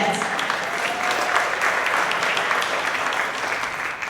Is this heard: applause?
yes